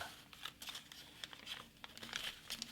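Paper being creased and folded for an origami turtle, with soft crinkles and light crackling in short, close bursts.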